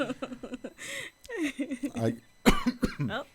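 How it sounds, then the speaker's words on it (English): Close-up speech with a few short, sharp coughs breaking in partway through, including one harsh throaty cough near the end. "I get that little cough"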